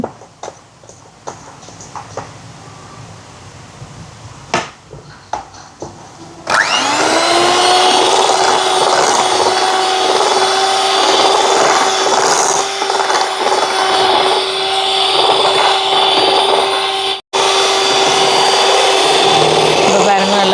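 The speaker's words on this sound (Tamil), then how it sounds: "இப்போ மாவை சேர்த்துட்டு இப்படி இருக்கா கலந்து விட்டுட்டு பீட்டரை போடுவோம், இல்லாட்டிக்கு பறக்கும்." An electric beater mixing fruit cake batter with flour added, switching on partway through and then running as a loud steady whir, close up and continuous, with one brief dropout near the end.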